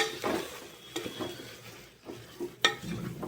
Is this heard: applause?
no